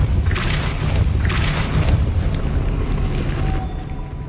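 A Depulso spell blast from the Hogwarts Legacy video game produces a loud, sustained booming rumble with a thumping impact early on that fades abruptly near the end.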